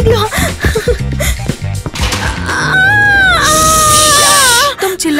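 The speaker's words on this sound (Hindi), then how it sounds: "तुम चिल्ला क्यों रही हो?" A woman screams in a prison cell during labor pains, with loud, wavering high-pitched cries that follow hurried, agitated vocal sounds, close and intense.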